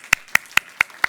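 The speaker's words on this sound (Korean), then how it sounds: "박수." During a church service welcoming visiting friends from Rwanda and Tanzania, five crisp, evenly spaced claps ring out close and loud in a steady rhythm, with quiet pauses between them.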